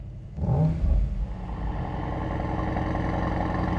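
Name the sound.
Mercedes-AMG GT 55 coupe V8 engine revving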